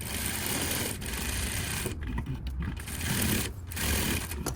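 A sewing machine stitches fabric close up with a dense, continuous whirring rattle that stops briefly twice before running on.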